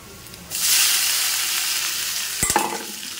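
Boiled Maggi noodles hit a pan of fried onions with a sudden loud sizzle that keeps hissing steadily, broken near the end by a few sharp scraping stirs.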